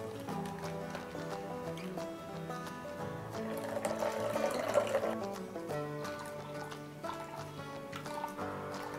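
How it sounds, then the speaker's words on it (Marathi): Kokum solkadhi juice being strained through a strainer, liquid trickling and dripping steadily over several seconds, soft and near, with tonal background music underneath. "आता आपण हा रस गाळणीतून गाळून घेऊया"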